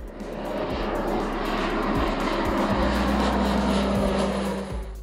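An Embraer A-29 Super Tucano, a Brazilian high-wing turboprop light attack aircraft, drones loudly and steadily with a constant engine roar and a low propeller hum, staying close throughout.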